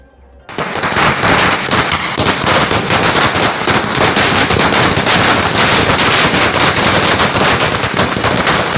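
Rapid, dense crackle of firecrackers going off continuously at a BJP celebration marking the Rafale jets' arrival, loud and sustained after a brief quiet start, with no talk.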